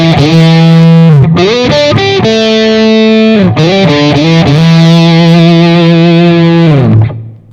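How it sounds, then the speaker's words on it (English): An electric guitar played through a fuzz effect gives loud, thick, buzzing sustained notes with slides and bends, a short phrase that rings out and then fades. "And finally, some fuzz."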